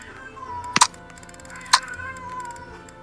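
A pet cat lets out a couple of short meows over a background of soft game music and ticking.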